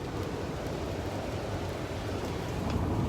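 Rain drumming on a campervan while it drives through bad weather, a dense, steady hiss and patter that fills the whole moment at an even, fairly loud level.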